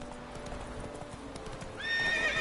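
Roach the horse gallops in The Witcher 3: quick hoofbeats over ambient sound, ending in a loud, shrill neigh.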